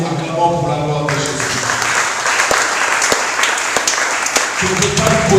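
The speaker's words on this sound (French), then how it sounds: "Acclamons pour la gloire de Jésus." A church congregation at a deliverance service breaks into sustained applause after a short stretch of voices, a dense, loud wash of clapping that keeps going steadily before a voice returns near the end.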